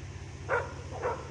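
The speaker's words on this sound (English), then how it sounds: "Maybe one of his dogs." A dog barks twice in the distance from over a hill on a rural property at night, the two short faint barks spaced about half a second apart above a steady low hum.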